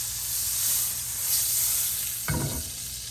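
Dairy-free butter sizzles in a hot pan with a steady bright hiss. A brief low clatter comes near the end, all close up.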